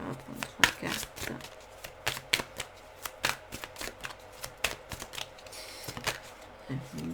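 Oracle cards being shuffled by hand, a steady run of close, crisp riffling snaps and flicks with a few louder slaps, with no talking over it.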